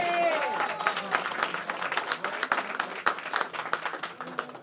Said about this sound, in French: Ça mérite peut-être une belle applaudissement.